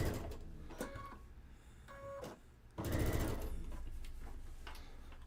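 Sewing machine stitching the long seams of a table runner, with short whirring bursts and then a longer steady run up close, no talking.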